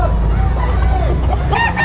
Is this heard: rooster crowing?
yes